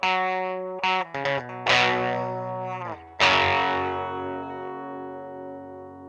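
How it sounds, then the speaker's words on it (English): An electric guitar runs through the germanium side of a boost pedal, soft-clipping into a smooth overdrive: a few short chords, then a big sustained chord that rings out and slowly decays, alone and fairly loud. "Where the germanium side soft clips, giving us a more gradual, natural sounding distortion,"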